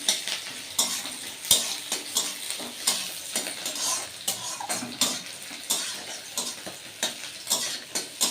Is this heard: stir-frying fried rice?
yes